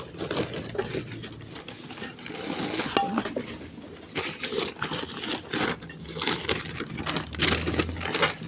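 Plates and dishes clattering and clinking while being handled at a market shop, with continuous busy ceramic knocks and scrapes throughout.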